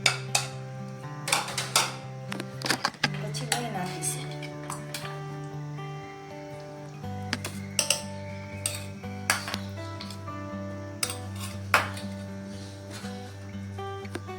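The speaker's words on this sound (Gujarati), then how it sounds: "હવે આ કટકાને આપણે મિક્સર જારમાં નાખીશું" Mango pieces drop into a mixer jar as a series of quick, hard clinks and knocks, scattered across the stretch over a bed of background music.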